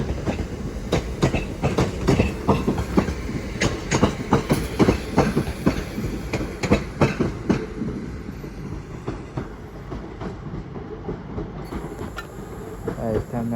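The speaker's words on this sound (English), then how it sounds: "Arriving in Nays, a terminating northern service from Manchester Piccadilly." A terminating Northern passenger train from Manchester Piccadilly pulls into Crewe station on the West Coast Main Line, wheels clicking steadily over rail joints up close, the rumble easing as it slows, with faint talk in the background.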